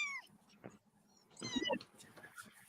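Small kittens meowing in a shed, several thin high cries near the mic, a cluster early and a louder burst in the middle, with faint background noise between.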